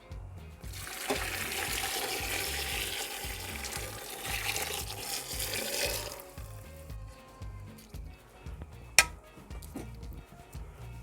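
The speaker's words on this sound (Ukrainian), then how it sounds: "знову заливаю другий раз сливи. Заливаю другий раз маринадом." Marinade is poured over plums in a jar, a continuous liquid splashing and trickling that runs for several seconds and then fades, with a single sharp knock near the end.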